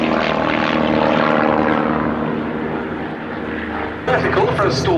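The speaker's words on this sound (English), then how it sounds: "in come the other aircraft, with 3 in big formation and the 4th barrel rolling around their smoke" Several Vans RV-8 propeller planes roar past in airshow formation at Duxford, a loud sustained droning engine note that shifts in pitch, with a fresh burst of engine noise near the end and a commentator talking over it.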